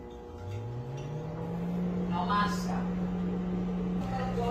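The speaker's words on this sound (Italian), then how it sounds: "Mettiamo in microonde e facciamo un veloce reheat." A microwave oven hums steadily as it reheats garlic bread, a close, even drone that rises in pitch at start-up and holds, with faint clatter of kitchen activity in the background.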